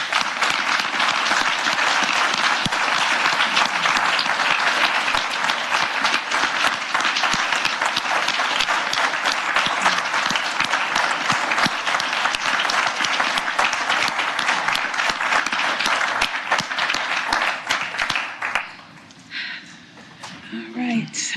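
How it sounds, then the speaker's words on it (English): A sustained round of applause from a council chamber audience honoring standing members of the Puyallup tribe at a Tacoma Indigenous Peoples Day meeting, dense steady clapping for about eighteen seconds before fading out. "We give them a round of applause."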